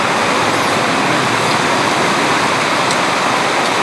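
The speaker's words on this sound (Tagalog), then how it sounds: "Kita niyo yung hampas ng alon, no? Malakas na." Strong sea waves crash and churn close by in stormy weather with rain threatening, a loud, steady broadband roar with no clear breaks and no talk over it.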